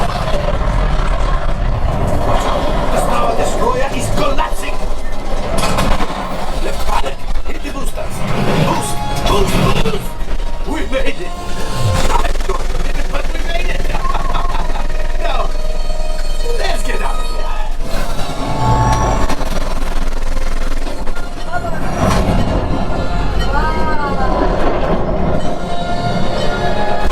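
Rumbling train noise with screeching wheels and crashing impacts fills the Millennium Falcon: Smugglers Run ride simulator at Galaxy's Edge, with voices talking over it throughout.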